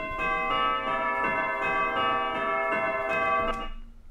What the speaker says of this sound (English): when you mention the church, you have bells